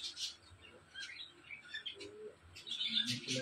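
Champion racing pigeons call at a rooftop loft, with repeated short chirps and tweets mixed with soft coos. A low background murmur runs underneath.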